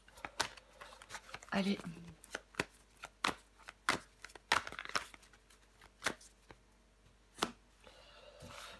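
Tarot cards are handled in quick, sharp snaps and slides, with scattered flicks and dealt-card slaps at close range under a quiet French-speaking voice.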